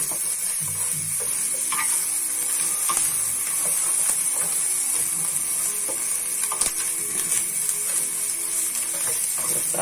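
Bacon sizzling in a pan for hot dog filling, a constant close crackle with clicks and scrapes of stirring throughout.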